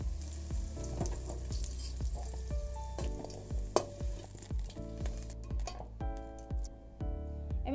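Potatoes fry in a kadai, making a continuous close sizzle broken by repeated scrapes and clinks of a spatula stirring against the metal, with no talking.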